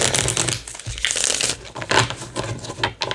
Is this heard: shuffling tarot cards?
yes